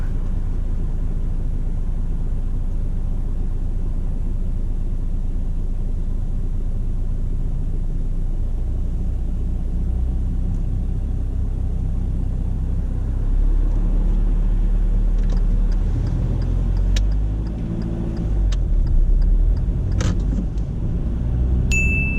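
A car moves off from the kerb during a driving test, its low engine rumble steady inside the cabin, deepening as it pulls away, with a few faint clicks and dings near the end.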